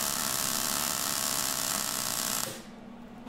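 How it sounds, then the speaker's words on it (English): MIG welder joining the leaf spring of a 1914 Indy 500 10-litre race car in a shed, a steady, close, crackling buzz that stops abruptly near the end, leaving a quieter background. "we're now just about to MIG weld the joint in the middle there"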